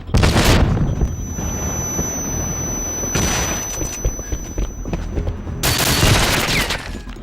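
Shotgun blasts in a multiplayer video game, three heavy booming shots spaced a few seconds apart, loud and close with gritty ambient noise between.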